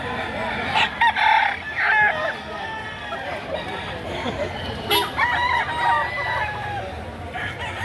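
A bullstag rooster over a year old crows at a busy chicken market in Batangas, its calls rising repeatedly over clucking fowl and overlapping voices of people talking nearby.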